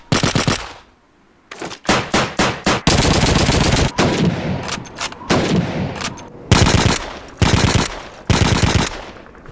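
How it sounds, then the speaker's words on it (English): Gunfire from the video game Call of Duty 2 comes in rapid automatic bursts and single cracks, thin and tinny in character, repeating in choppy clusters with short gaps, loud and without talk. "the gun sounds. They just sounded a little bit weak to me, a little bit tinny, they lacked a meatiness"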